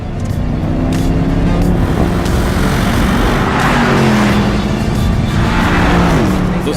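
A Porsche Panamera GTS V8 bi-turbo engine roars loudly and continuously, revving up and shifting through gears as it accelerates hard.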